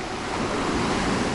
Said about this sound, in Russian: потому что море штормит